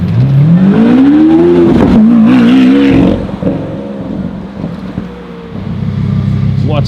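A supercar engine with its exhaust valves open revs hard and loud, the pitch climbing over the first three seconds before it drops to a rumbling idle. Street noise and voices sit underneath.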